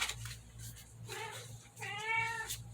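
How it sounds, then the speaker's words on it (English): A cat meows loudly at close range, two or three drawn-out, rising yowls in quick succession over a faint steady hum, with no talk. "I'm sorry that the cat's just going to yell through this whole reading"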